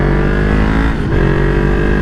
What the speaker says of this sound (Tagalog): Padagan-dagan lang ako og kusog atong motor guys kay para ma-stretching iyang makina.